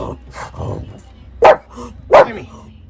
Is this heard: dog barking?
yes